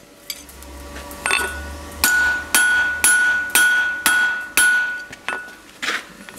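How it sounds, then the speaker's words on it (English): A hammer rings on a steel round bar held across blacksmith tong jaws in a steady series of about eight sharp metallic strikes, each leaving a bright ringing tone, loud and close. "I'm just going to hammer that across the jaw that way"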